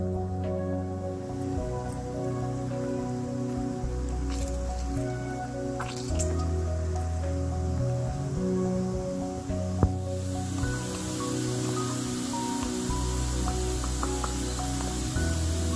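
Lemons squeezed by hand for lemon rice, soft wet squishing and dripping juice falling in small drips under a faint background hum, no talk.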